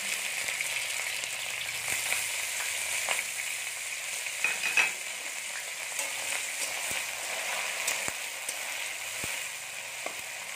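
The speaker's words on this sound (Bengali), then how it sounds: "এখন আমরা বিন গাজরগুলো ভেজে নেব।" Beans, carrots and capsicum fry in hot oil in a pan, giving a steady, close crackling sizzle with occasional sharp pops and stirring clicks, no voices.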